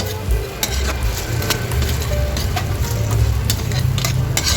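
Vegetables for a Filipino coconut milk stew (ginataang gulay) hit a hot pan, giving a steady close sizzle and frying crackle with faint clicks of stirring utensils.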